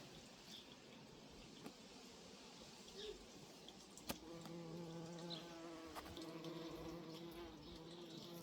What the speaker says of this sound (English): I've been pleasantly surprised to see how popular these flowers are with the bees.